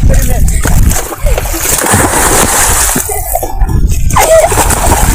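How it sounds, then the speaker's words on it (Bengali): Loud, continuous splashing and sloshing of water as someone bathes in a river in the haor wetlands of Shibchar, Madaripur, with voices talking over the churning water. "ফার্স্ট টাইম এই নদীতে গোসল করতেছি।"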